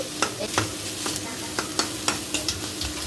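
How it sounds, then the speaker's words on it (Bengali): Dried fish cooking with jackfruit seeds, garlic and onion, stirred in a hot pan: steady sizzling frying with sharp spatula scrapes recurring about every half second, close and moderately loud, no voices. "এখানে হচ্ছে শুটকি রান্না হবে কাঁঠাল দানা দিয়ে, আর হচ্ছে কি জানি রসুন পেঁয়াজ"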